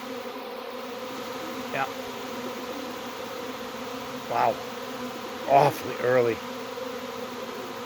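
A honey bee swarm hums in a steady, dense drone that lasts throughout, heard close up, while a person makes a few brief remarks over it.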